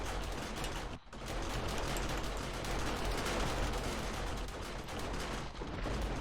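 Auto turrets firing in 7 Days to Die, a dense, continuous clatter of rapid mechanical gunfire that stays loud throughout, dropping out for a moment about one second in.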